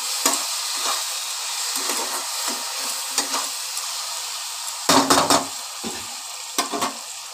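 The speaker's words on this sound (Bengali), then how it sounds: "এবার একটুখানি নেড়ে নিচ্ছি। মানে কষিয়ে নিচ্ছি আবার একটুখানি।" A spatula scrapes and stirs spices in a hot pan for ghugni, with soft sizzling underneath and several sharp metallic scrapes and clinks, one cluster louder near the middle.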